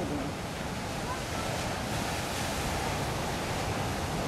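Ocean waves crash on Easter Island in a steady, heavy roar of surf, loud and continuous, with wind noise mixed in.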